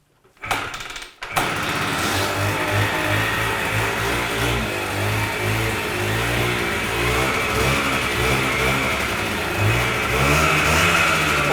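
An older motorcycle with its original muffler, known to have a troublesome kick-starter, fires up after a brief mechanical clatter, then runs close and loud, its engine revving and settling in repeated uneven surges.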